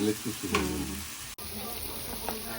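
Green chilies and cumin fry in a hot pan with a strong, close sizzle and crackle. There is stirring throughout, and the texture shifts abruptly partway through into a brighter, steadier hiss.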